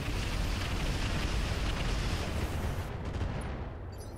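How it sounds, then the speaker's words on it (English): Weapons fire against a turret in the mech combat game Roguetech, a continuous heavy roar of rumbling blasts and explosions, loud and dense throughout with no talking. "Firing on a turret."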